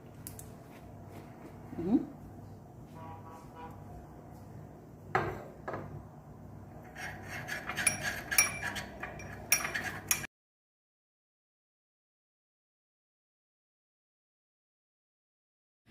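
A spoon stirring a small ginger and olive oil mixture makes close, soft scraping and clinking against a bowl, with sharper taps near the end before abrupt silence.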